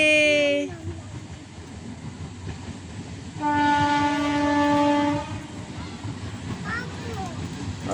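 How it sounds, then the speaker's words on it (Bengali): A train passes nearby, a loud horn blast opening and another long horn sounding midway over rumbling wheels and rail clatter, with a voice speaking in the background. "ট্রেন যাচ্ছে"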